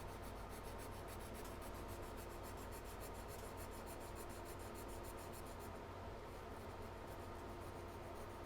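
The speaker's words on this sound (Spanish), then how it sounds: "vamos a ir limando la pieza hasta que retiremos el sobrante del cianocrilato" A file rasps steadily back and forth against a small model train running-gear part, clearing excess cyanoacrylate glue in a faint, continuous rhythmic scraping.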